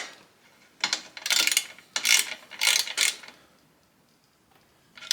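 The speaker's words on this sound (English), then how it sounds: "Now I just gotta tighten down this O2 sensor bung." Ratchet tightening an O2 sensor bung on a cheap aftermarket mini bike exhaust, heard as several close, loud bursts of rapid clicking with brief pauses between strokes, no talking.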